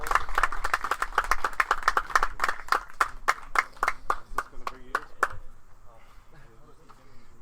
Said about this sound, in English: Good round of applause coming in for him.